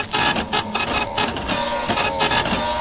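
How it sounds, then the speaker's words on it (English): Old, broken dot-matrix-style printer noise from a video game: a continuous, loud mechanical chattering and buzzing with rapid rhythmic clicks, running steadily through the whole stretch. "The sounds seem to be some sort of old broken printer, or a dot matrix printer"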